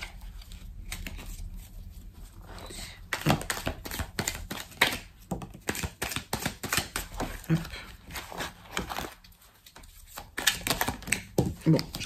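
Oracle cards are tapped and shuffled in bursts of crisp papery slaps and riffles, with someone talking in French over and between them.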